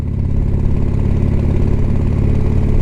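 A motorcycle engine running steadily, a loud, close, even rumble with a pulsing low beat throughout and no voices.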